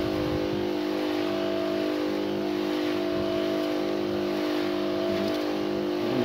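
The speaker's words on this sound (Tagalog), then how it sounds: "Lakas din ng isang sprayer namin" A motorized farm sprayer engine runs steadily at close range, an even mechanical hum with a strong tonal whine that holds constant, alone without talk.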